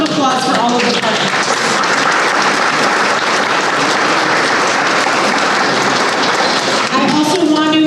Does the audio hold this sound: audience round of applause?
yes